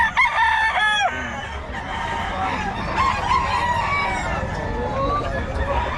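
Roosters crow loudly at a busy Bocaue flea market, one near call opening the clip, with chickens clucking and more distant crowing over crowd noise and people talking.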